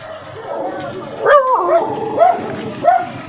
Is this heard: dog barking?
yes